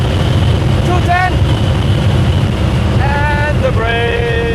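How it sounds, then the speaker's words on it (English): Strong wind roars and buffets around an open-top car at speed on the German Autobahn, a loud, constant rushing roar with a few brief vocal-like tones cutting through. "It is so windy with the top down"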